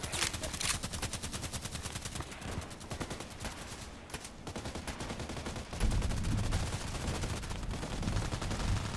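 HK417 gunfire, a long rapid stream of shots that continues throughout, loud and close, with a heavier stretch near the end.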